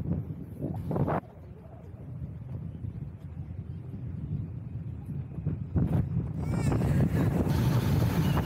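Passengers aboard the Appare sightseeing boat near Mt. Fuji, with steady engine rumble and wind buffeting the microphone throughout, water rushing alongside, and a louder gust-filled stretch toward the end; a brief voice and some background chatter mix in.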